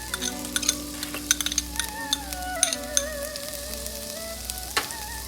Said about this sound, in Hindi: और इसको हम थोड़ा सा सौटे कर लेंगे।